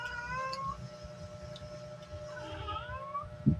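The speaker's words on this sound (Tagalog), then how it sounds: "Yung pusa maingay. Pag naririnig ng pusa na kumakain ako, yan, nag-iingay siya." A cat meows a few times, fairly faint, over a low rumbling background, with a soft thump near the end.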